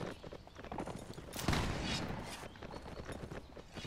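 Musket volleys crackle in a Mount & Blade battle, dense overlapping gunfire with a louder burst partway through, set against constant battlefield noise.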